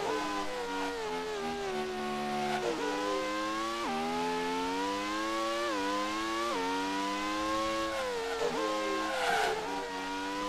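Race car in the video game Grand Prix 2 at the Monaco Grand Prix, engine screaming and climbing through the gears in repeated rising sweeps, each upshift dropping the pitch before it revs up again, loud and continuous.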